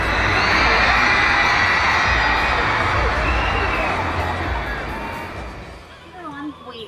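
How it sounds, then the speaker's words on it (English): A huge crowd at the Sydney Opera House screams and cheers in a dense, sustained roar that fills the space, easing slightly toward the end as scattered nearer voices and shouts poke through. "There were people everywhere. The crowd was huge. Every 30 seconds you would hear a massive scream."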